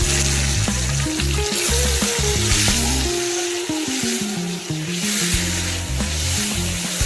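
Chopped onions and tomatoes with chilli sauté in a hot pan, giving a dense, crackling sizzle up close. Scraping stirs run underneath, and there is no talking.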